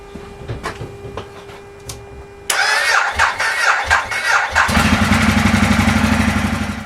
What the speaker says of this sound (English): try and start the bike